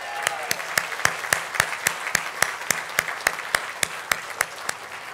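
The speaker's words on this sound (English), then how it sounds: "let's give her a round of applause." A crowd at the opening of a San Francisco port cruise terminal applauds in a steady wash of clapping, with sharp regular claps standing out close by at about three per second.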